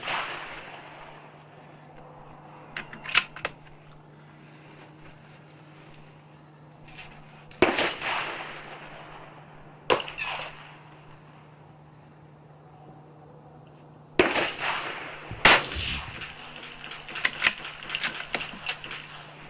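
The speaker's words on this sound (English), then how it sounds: "we just shot 5 groups with the CCI hollow points" Ruger Precision Rimfire .17 HMR rifle firing CCI hollow-point rounds at a range, a few sharp, well-spaced cracks at first, then a denser run of shots near the end over a steady low hum.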